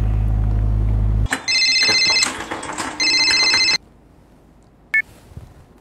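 A telephone rings loudly in two long trilling bursts, then a brief chirp follows after a pause; a low hum sits underneath at the start.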